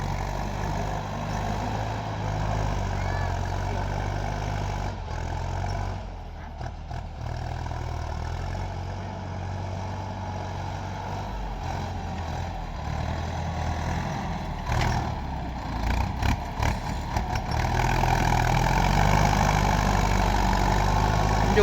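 A Ford 6600 tractor diesel engine running steadily at idle, a loud, deep, continuous rumble close by, with some uneven chugging toward the end as the revs rise slightly.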